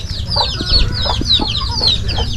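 Chicks peep and cheep rapidly in a close, busy chorus with soft clucking from hens mixed in, a loud, continuous flurry of high chirps with no talk.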